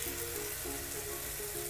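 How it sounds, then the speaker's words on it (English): Organic chicken marinated in Italian dressing sizzles on a hot grill, a steady close crackle and hiss running continuously with no talking. "You can hear that sizzle."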